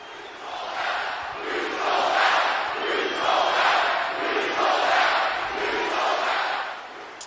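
A wrestling crowd cheers for Havoc, a loud, dense mass of voices surging in rhythmic waves like a chant, swelling and dipping roughly every second, with no commentary over it.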